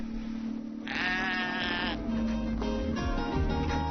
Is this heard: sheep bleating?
yes